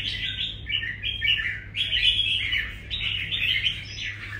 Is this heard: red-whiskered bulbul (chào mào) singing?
yes